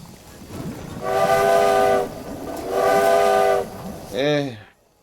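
A train whistle in the railway game Railway Empire: two sustained high-pitched blasts about a second each, then a shorter bending tone, loud and close over a low rumble.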